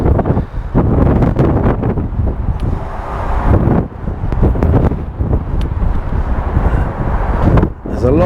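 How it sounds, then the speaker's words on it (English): Strong wind gusting and buffeting the microphone outdoors beside a Bentley on a windy day, a loud continuous rumbling roar that surges and dips with short pauses. "we've got to be careful with the wind because it's quite a windy day"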